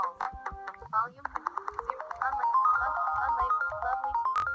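A downloaded phone ringtone plays a bright melodic tune of quick plucked and chiming notes, rising in sequence and ending with a sharp accent, clear and alone at moderate volume.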